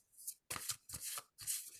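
A deck of oracle cards is shuffled close up in quick riffling bursts, four rough pulses of papery flutter separated by short gaps.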